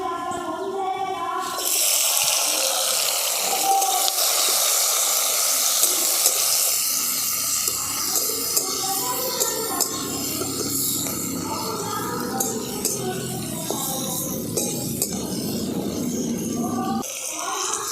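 Tomatoes, garlic cloves and dried chillies fry in hot oil with a loud, sustained sizzling hiss, close up and unbroken throughout.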